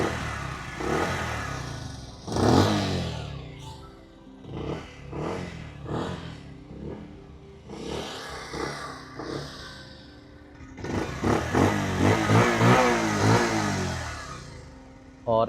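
A Honda Unicorn 160 motorcycle engine revved with the throttle, giving repeated rising and falling bursts of exhaust roar, close and loud, with a longer sustained rev toward the end.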